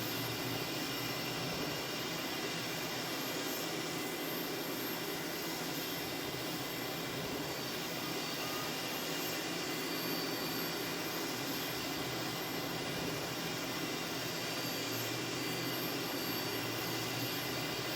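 An IndiaFoxtEcho M346 fighter jet climbs steeply in Microsoft Flight Simulator 2020, a steady broadband engine roar and whine holding constant at moderate loudness throughout with no talk.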